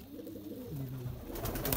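Pigeons coo softly in a low, rolling call, heard close up, with some rustling and a few sharper noises near the end; no speech.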